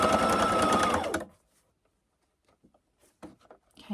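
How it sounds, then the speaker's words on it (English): A sewing machine stitches along the edge of a quilted, padded tablet zipper bag, running steadily for about a second before stopping, followed by faint handling noises and small clicks. "just sew straight down along the edge, removing the clips as you go"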